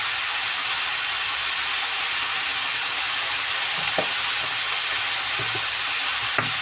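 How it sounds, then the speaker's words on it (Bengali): Cabbage fries with turmeric in a pan for a fish-head dish, a constant loud sizzling hiss with a few soft knocks of a spoon stirring toward the end, no speech. "ভালো করে এবার মিশিয়ে নিতে হবে।"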